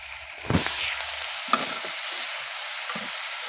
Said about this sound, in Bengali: ভাজা তেলের ভিতরে মশলা দিয়ে দিচ্ছি